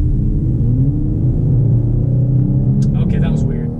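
A 2019 Jeep Cherokee with a 3.2 liter V6 accelerates, a loud steady low engine rumble and drone heard from inside the cabin, with someone briefly speaking near the end.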